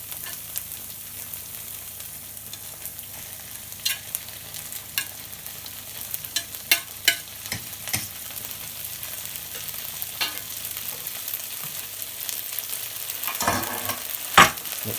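Tofu scramble frying in a pan as spinach and tomatoes are stirred in, a steady soft sizzle broken by scraping stirs and a few louder clacks near the end, close and with no talking.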